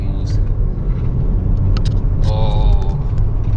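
A Honda Civic RS turbo accelerates on the road, its engine a steady low rumble with road noise. The sound is loud and continuous inside the cabin.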